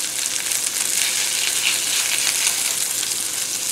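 Burgers sizzle loudly in a hot pan as they are flipped, producing a dense, continuous, close hiss and crackle with no talking.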